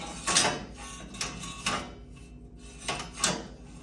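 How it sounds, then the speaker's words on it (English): A seat mount being adjusted, with the seat tilted forward and a pin caught on a hook: several short metallic clunks and rattles close by, grouped in a few quick bursts with brief pauses between. "I tilt the seat forward and catch one of these pins with that hook"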